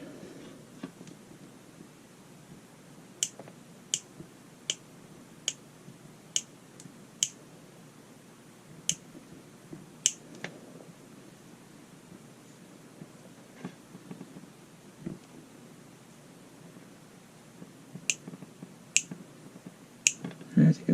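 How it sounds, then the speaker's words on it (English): Side cutters snip through wire while making test leads, giving a scattered series of sharp, faint clicks spread out over a quiet workshop background with some handling rustle and occasional talk. "I just take side cutters, wire cutters, and"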